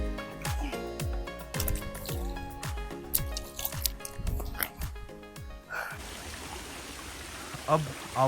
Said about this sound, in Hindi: अब आवाज क्लियर आ रही होगी आपको झरने की, इतना प्यारा है ना।